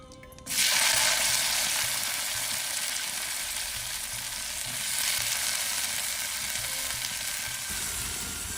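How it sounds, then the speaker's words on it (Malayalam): Vegetables sauté in a little ghee in a pan, a loud, steady sizzle that starts suddenly and then holds evenly with no talking. "ഇതെല്ലാം കൂടി അങ്ങോട്ട് ഒന്ന് വഴറ്റി അരയ്ക്കാൻ പോവുകയാണ്"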